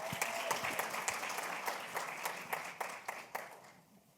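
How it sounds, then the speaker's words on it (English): An audience applauds the first panel at an arts and social justice event, a dense patter of many hands clapping at moderate distance that slowly fades out. "Hand clap for our first panel."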